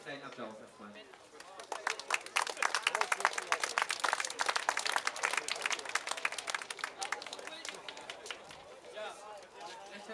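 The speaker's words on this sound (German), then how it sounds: "Vielleicht einen kleinen Applaus erstmal" Sparse outdoor applause from a small crowd at a railway-line demonstration in Angermünde, individual claps clearly separated and building, then tapering, with voices murmuring through it.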